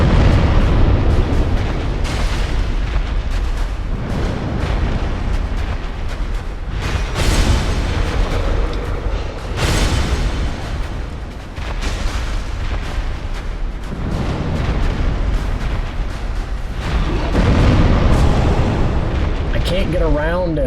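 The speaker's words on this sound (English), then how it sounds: "Let's do more of the other normal explosions" Repeated heavy booms and blasts in the video game Dark Souls Daughters of Ash, loud bursts recurring every few seconds amid game noise.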